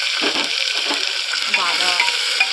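Green chillies fry in a pan of veg pulao ingredients, a close, bright, steady sizzle with a few soft stirring scrapes.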